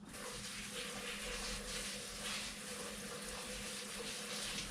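Tap water pours steadily as hands sticky with flour and buttermilk are rinsed during pork chop prep, a continuous, even hiss of running water at moderate loudness with no one speaking.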